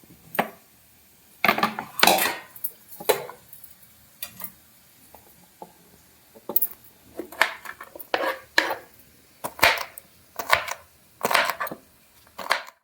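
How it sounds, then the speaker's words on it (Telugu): Okra is cut with a knife on a board for frying: irregular sharp chopping taps, sometimes in quick bursts, sometimes spaced apart, close and fairly crisp with quiet pauses between. "ఇప్పుడు బెండకాయ ఫ్రైకి కట్ చేసుకుందాం."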